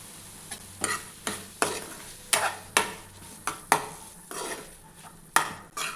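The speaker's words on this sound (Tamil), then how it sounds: "நல்லா கிளறி விட்டுக்குங்க." Dry fish frying in a pan is stirred in quick repeated strokes, each scrape rising over a constant close sizzle in an irregular rhythm, with no voices.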